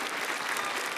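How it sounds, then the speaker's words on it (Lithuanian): A television studio audience applauding after a live magic performance, a brief burst of many hands clapping, dense and steady at close range. "Iš tiesų didžiausi aplodismentai ir linkėjimai"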